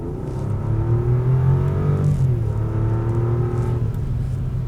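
Rolls-Royce Black Badge Spectre electric car accelerating on the hilly Magarigawa race track, heard from inside as a loud, steady whine and rumble that climbs and falls in pitch through gear-like shifts, with no talk.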